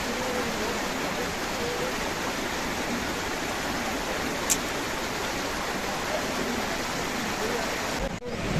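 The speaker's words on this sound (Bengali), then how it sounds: "ওপর থেকে ওই যে ঝর্ণার জল পড়ছে" Waterfall pouring down from above at a Himalayan campsite on the Hampta Pass trek from Manali, a steady, dense rush of falling water throughout, with a brief knock near the end.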